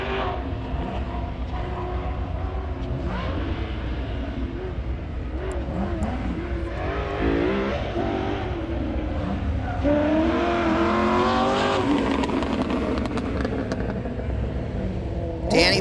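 A race car with a Lingenfelter engine roars down the backstretch at a King of the Mountain racing event, a loud, continuous engine drone with rising and shifting pitch as it accelerates.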